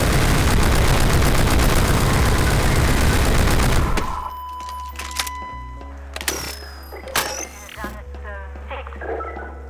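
An upgraded Thompson submachine gun fires in a Half-Life mod game with a BioShock-style weapon: a dense, loud burst of rapid automatic fire for about four seconds, then scattered single shots, mechanical clanks and a low hum.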